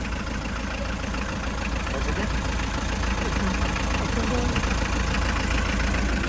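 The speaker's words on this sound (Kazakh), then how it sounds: "Жүргізіп моторын авалын көріп атшады," A Hyundai Porter truck engine idles at a used-vehicle market in Osh, giving a steady close low rumble with a slight knocking texture and background voices faintly underneath.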